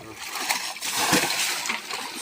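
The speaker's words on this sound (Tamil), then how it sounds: "இதில் கொஞ்சம் தண்ணி ஊற்றி விட்றா, இது கழுவிடா" Water is poured over a tractor part to wash it, giving a brief, continuous splashing and spattering that stays loud and close the whole time.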